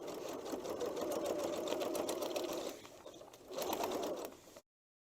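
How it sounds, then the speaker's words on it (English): A sewing machine runs steadily, stitching fabric around a paper-pieced heart, a close fast whirring hum that stops briefly, restarts for a shorter run, then cuts off. "I'm going to stitch right on the outside of that black line"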